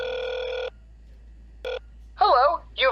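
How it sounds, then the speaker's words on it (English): Telephone ring in an episode of a Pokémon-themed audio drama: two electronic ring tones, a long one then a short burst, followed by people speaking. "The phone rings. Rings again. Rings a third time."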